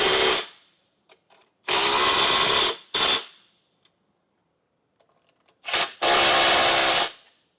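A power tool with a socket tightens trailer hitch bolts on a 2022 Jeep Grand Cherokee. The tool sounds close and loud, in several whirring bursts of about a second each, separated by quiet gaps.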